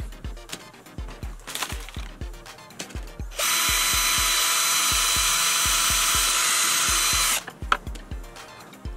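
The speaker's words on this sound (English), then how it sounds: "When a small drill won't work, a bigger one is better." A large power drill whines loudly for about four seconds, surrounded by repeated sharp knocks and tapping before and after.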